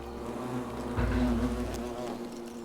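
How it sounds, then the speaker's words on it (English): Bees buzzing in a steady insect drone inside the video game The Forgotten City, swelling a little partway through, with no talking. "Oh, there's bees."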